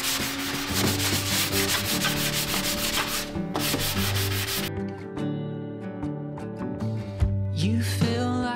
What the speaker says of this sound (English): All right, scuff sand and primer.